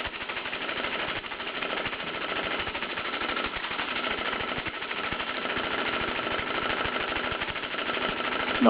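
A Bowman M167 model steam engine runs steadily with a fast, even chuffing and mechanical clatter, loud and close throughout, with no voices.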